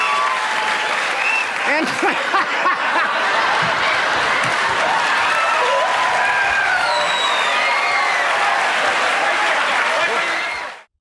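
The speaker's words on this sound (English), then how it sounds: "It is the endless cheering that pushes this studio chaos to its absolute peak" Studio audience on a late-night television talk show breaks into sustained loud applause and cheering that fills the room for about ten seconds, with scattered whoops and laughter, before cutting off abruptly.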